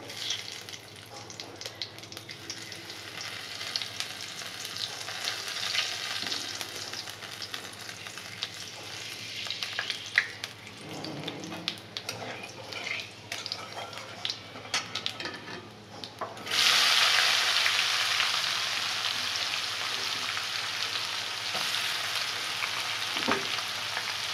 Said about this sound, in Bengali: কিছুটা পেঁয়াজ ভেজে দিয়েছি